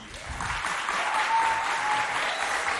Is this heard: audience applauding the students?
yes